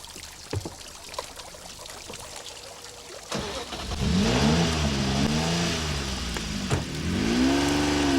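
A Jaguar XJ220 supercar's engine rises and falls through several revs after a few faint clicks and thumps, growing louder and closer with a wavering, throaty pitch.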